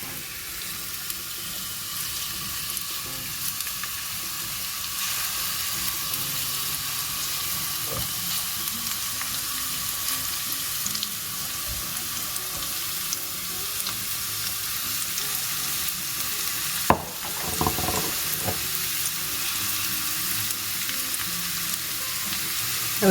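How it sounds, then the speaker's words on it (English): Thinly sliced onions frying in a pan of oil for chicken biryani, a steady, dense sizzle that carries on unbroken, with a brief clatter partway through. "I'm going to fry them in sections just so that I can get them"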